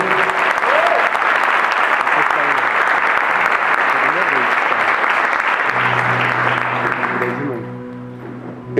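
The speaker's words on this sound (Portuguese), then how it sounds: "Vamos dar uma salva de palmas para a palavra de Deus." A church congregation breaks into loud, sustained applause for the word of God, dense clapping filling the space, then thinning out near the end as a low organ or keyboard tone comes in.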